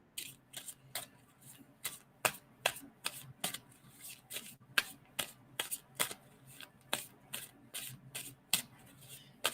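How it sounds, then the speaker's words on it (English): Tarot cards being shuffled by hand in a steady series of crisp riffling snaps, repeating roughly every half second at close range, with no talking over them. "And tell me when to stop shuffling."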